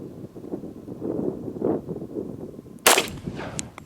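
A single gunshot from a Nighthawk 1911 pistol fired at targets about 10 yards away outdoors, a sharp crack standing out against wind noise, with a fainter second report shortly after.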